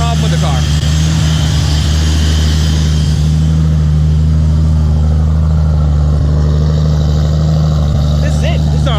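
A 1300hp Toyota Supra drives steadily with a loud, continuous low engine drone that holds throughout, with a few faint tire or interior noises near the end.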